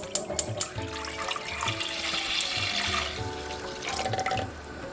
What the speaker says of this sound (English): I'm going to go right ahead and add in my coconut milk.